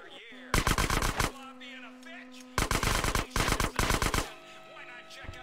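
Gunfire at a shooting range in GTA San Andreas, three loud, rapid automatic bursts separated by pauses, with short game tones and quiet background sound between them.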